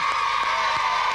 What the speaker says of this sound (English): That's a big cheer for Brett and Aimee from Whittlesea County Junior School